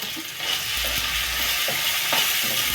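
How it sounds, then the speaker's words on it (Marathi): Oil heats in a pan for a dal tadka with a little chilli added, giving a steady broadband sizzle and crackle throughout, with a few soft clinks and stirs in the pan; no voices. "आपण इकडे तडक्याचं तेल गरम करून घेऊ"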